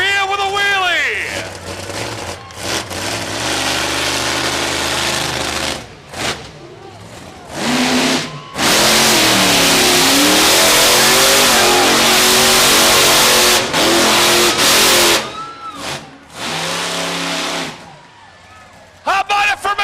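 A car engine revs hard under heavy throttle as a vehicle pulls a wheelie at a monster-truck style show. The roars are loud and sustained with short lifts between them, while an announcer talks over the noise.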